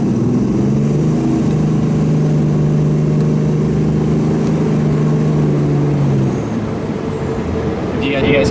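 A twin-turbo 6.7 Cummins diesel pickup truck engine rumbles steadily in first gear, a deep continuous drone that eases off briefly near the end before picking up again.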